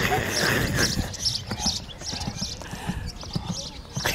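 Hooves clip-clop in a steady trotting rhythm, fairly close, while people talk over them intermittently.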